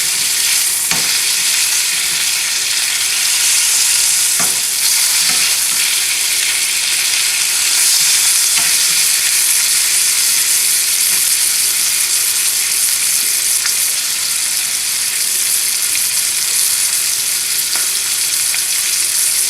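Sous vide pork tenderloin searing in a hot pan for caramelization: a loud, continuous sizzle and crackle of frying meat close up, with occasional sharper pops and stirring taps throughout, no voices.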